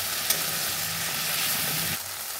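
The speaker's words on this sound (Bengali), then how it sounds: "বাটা মশলা টমেটো কুচি লবণ হলুদ লঙ্কা গুঁড়ো দিয়ে মশলা ভালো করে কষে নেব।" Ground spice paste with chopped tomato, salt, turmeric and chilli powder frying in a pan, a dense continuous close sizzle with light stirring.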